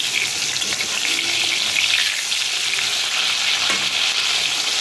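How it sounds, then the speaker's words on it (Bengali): Pointed gourd fries in plenty of oil, a loud, continuous hissing sizzle close up with no one talking. "একটু করে বেশি তেল দিয়েছি যাতে পটলটা ভালো করে ভাজা হয়ে যায়।"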